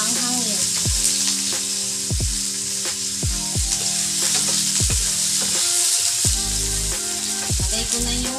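Onions and two chilies fry loudly in a hot pan, giving a strong, continuous sizzle. Repeated stirring scrapes and clinks cut through it, with a faint droning tone in the background.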